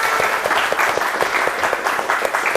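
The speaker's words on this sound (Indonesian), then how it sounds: "Tepuk tangan dong buat kita semuanya." A school class applauding together, steady rapid clapping from many hands filling the room, close and continuous.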